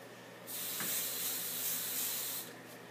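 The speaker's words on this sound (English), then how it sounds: "Try to get some texture in through here with the spray." A can of hairspray hisses onto hair in one steady burst of about two seconds, close and fairly soft, with a short second puff at the end and no talking.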